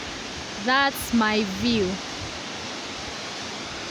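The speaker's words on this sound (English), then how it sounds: "So that's the waterfall, and you can see the scenery." Karuru waterfall in Aberdare National Park gives a steady, soft rushing wash heard from a viewing deck, with a brief spoken remark partway through over the constant background.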